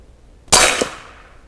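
A single sharp crack from an AirForce Texan SS .308 big-bore airgun, loud and close, with a metallic ring that fades over about a second after the shot.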